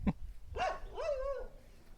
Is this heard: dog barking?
yes